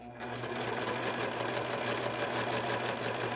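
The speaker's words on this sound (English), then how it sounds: "I'm going to start serging." A serger overlock machine sews elastic onto fabric, running steadily with a continuous fast whirring hum from start to finish, close and moderately loud.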